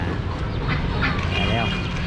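Ducks quack among the crowded poultry stalls of Sơn Kỳ market in Tân Phú, a few nasal calls rising over constant market chatter and background noise.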